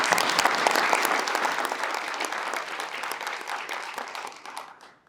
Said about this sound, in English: Let's all give them all a round of applause.